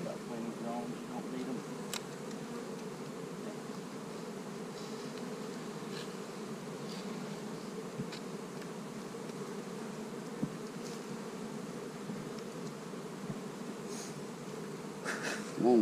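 Honey bees swarm in a full, opened hive box during a hive split, a close, steady buzzing drone that holds throughout with a few faint clicks and handling noises.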